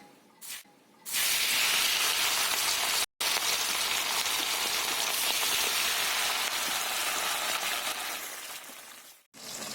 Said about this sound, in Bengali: তেল গরম হয়ে গেছে, আমি এবার মাছগুলোকে ভাজতে দিয়ে দিচ্ছি।